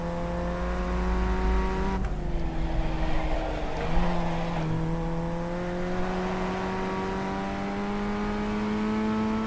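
A Formula 1600 race car laps the Nordschleife, its engine holding a loud, sustained high-revving drone with a sharp gear change and brief dip before climbing again, heard close and alone.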